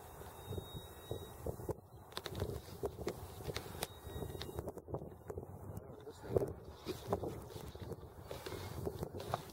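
Gusty wind buffets the microphone in uneven bursts, with rustling and faint outdoor noises in between.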